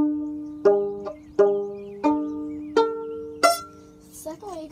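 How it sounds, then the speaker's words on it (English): Violin played pizzicato for a school instrument demonstration: five plucked notes in a slow, even rhythm, each a sharp, ringing attack that decays quickly, heard up close with no talking. "and pizzicatoing sounds like this."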